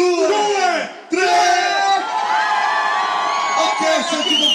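A packed crowd in an Italian town square on New Year's Eve roars and shouts together on a count of three, a loud, sustained wall of cheering voices that briefly dips and then surges again.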